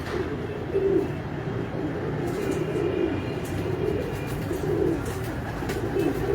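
Pigeons in a breeder's loft of roughly a hundred birds, low cooing rolling steadily and overlapping throughout, close and continuous over faint background hum.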